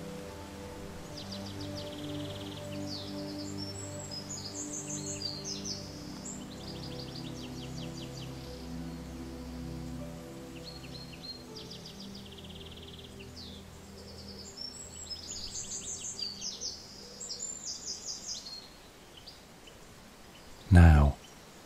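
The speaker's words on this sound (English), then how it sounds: "listen to the wind in the trees and the sound of the birds" Birds chirp and call in bursts against a soft, sustained musical background, with a calm voice speaking; a short louder rustle comes near the end.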